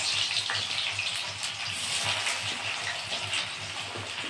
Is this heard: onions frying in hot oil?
yes